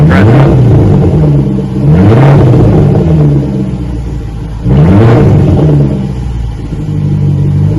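A 2017 Range Rover with its rear mufflers deleted revs hard in two loud, rising bursts, each settling back to a deep, throaty idle rumble close by.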